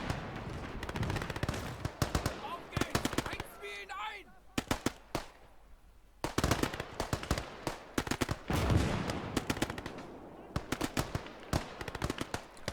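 In a WWII video game set during a 1941 push west from Moscow, a gun in the middle of a road fires HE rounds at Russian soldiers. Sharp, loud reports and rapid machine-gun rattles come in dense clusters, with voices mixed in.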